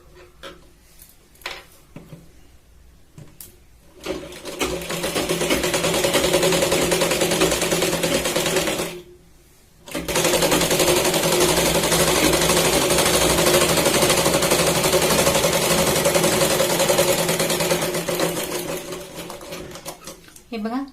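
A sewing machine runs in two long bursts while stitching a Katori blouse sleeve seam, steady and close, a dense mechanical whir that pauses briefly midway; a voice talks over it.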